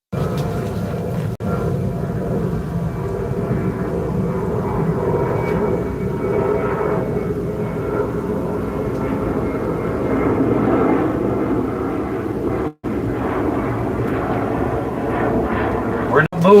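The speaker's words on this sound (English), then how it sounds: "Ooh, it sounds like an airplane's taking off." Airplane taking off near Biak, Indonesia, heard from a boat: a loud, sustained jet roar rumbling steadily for the full length, with a brief dropout near the end and people talking faintly underneath.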